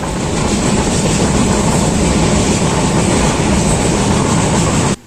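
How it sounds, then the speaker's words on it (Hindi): A train rolls steadily at Jammu railway station, heading for Katra, with a loud, continuous rumbling roar that cuts off abruptly at the end, no voices over it. "अब हम लोग यहाँ से कटरा जाने के लिए ट्रेन पर बैठ रहे हैं।"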